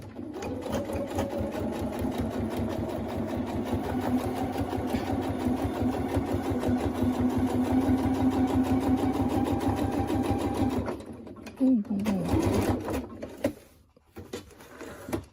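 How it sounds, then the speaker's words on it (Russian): Sewing machine stitching the visor of a fabric cap, a rapid, even mechanical chatter running steadily and close for about eleven seconds before stopping, followed by a few handling knocks and quiet. "И прошиваем козырек."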